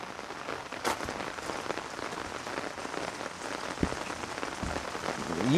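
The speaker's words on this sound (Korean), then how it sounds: "비 많이 온다" Heavy rain pours steadily outside a mineral spring in Yeongyang, North Gyeongsang, a dense, continuous hiss of drops striking surfaces close by, with no voices.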